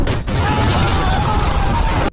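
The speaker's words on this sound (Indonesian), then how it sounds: "Ledakan terjadi di rumah itu dan menewaskan beberapa polisi yang berada di sana" A dramatised explosion at a house: a dense, loud burst of roaring blast noise sustained through the clip, with no voices.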